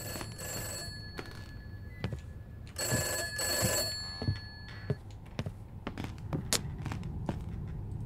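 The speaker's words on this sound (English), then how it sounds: "Oh, the phone." An old-fashioned telephone bell rings in the horror video game Summer of '58, coming in sharp repeated bursts mixed with thuds and footstep-like knocks, fairly faint and with no talk over it.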